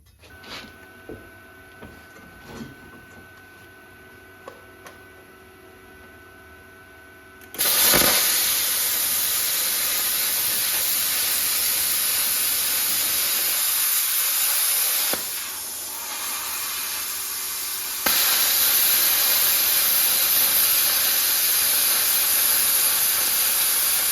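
An Arccaptain CUT 55 Pro plasma cutter slices a square from thin steel just under 1/8 inch thick. A few faint clicks come first, then a loud, steady hissing roar that dips briefly and then resumes.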